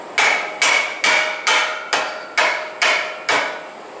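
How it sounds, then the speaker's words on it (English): Eight sharp, evenly spaced knocks of a wood block tapping on a truck tailgate being installed, close and crisp, each decaying quickly before the next. "Let me get a piece of wood and I'll just tap on that lightly"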